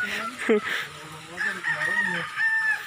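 Hens cluck and crow close by in a short burst of busy farmyard calls, with some talk faintly mixed in.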